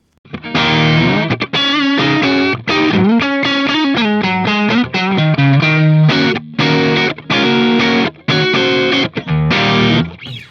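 A Synergy Syn20IR amplifier with OS module on its rock setting gives heavily distorted electric guitar, loud chords and riffs in bursts, with short pauses between phrases and a thick, saturated tone.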